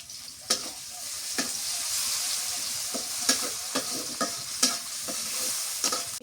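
Sliced onions frying in oil until golden for egg korma, a constant close sizzle broken by repeated sharp clinks and scrapes of a spatula stirring the pan, with no speech.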